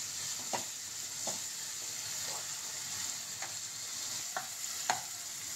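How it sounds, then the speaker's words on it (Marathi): Onion and tomato sauté in a pan with a soft, steady sizzle, broken by several sharp scrapes of a spoon against the pan at irregular intervals. "आता कांदा टोमॅटो परतून झाला आहे व्यवस्थितपणे."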